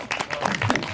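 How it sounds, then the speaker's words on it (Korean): An audience applauding at an indie film talk event in Korea: a second of dense, steady clapping from a crowd, with a voice audible over it. "전석구 박사님께 박수 한번."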